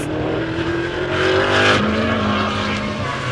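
Old muscle cars race around a New Zealand circuit at the opening round of a Central Muscle Cars series, engines roaring steadily loud with a rising surge midway as one passes close, tires briefly squealing.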